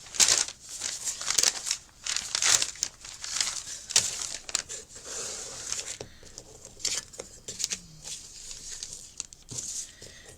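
Scrap paper is crumpled and crinkled close by in a steady run of crackling bursts, loud at first and then thinning into softer rustles, with no voice over it.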